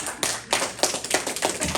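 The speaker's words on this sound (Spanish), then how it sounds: "Denle fuerte el aplauso al Señor." A church congregation applauds loudly during a Spanish-language sermon, with rapid, dense clapping that swells in repeated bursts across the clip and no one speaking over it.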